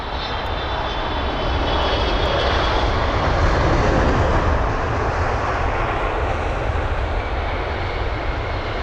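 A Boeing 777-300ER airliner arriving at Heathrow after a long-haul flight from Tokyo gives a steady, loud jet engine roar that holds for the whole stretch with no break.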